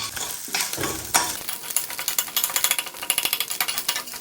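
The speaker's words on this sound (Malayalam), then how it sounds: "മുട്ട ചിക്കി മാന്തണ പരിപാടി എനിക്ക് കിട്ടി" Egg is scrambled in a pan with quick, rhythmic scraping strokes of a utensil over a light frying sizzle, close by and with no speech.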